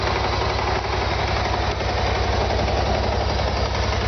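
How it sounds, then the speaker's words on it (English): A BMW 650GT scooter engine idles steadily, a low throbbing rumble with a regular pulsing beat, close by and unchanging throughout. "Never heard a scooter that has that type of sound."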